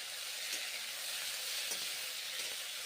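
Drumstick vegetable curry with a spoon of red lentils and fried chillies sizzles steadily in a pan, a continuous close frying hiss with a few soft stirring scrapes.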